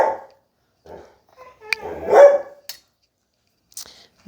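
A dog gives a few short barks and yips, loud and close, with brief pauses and a whine between them.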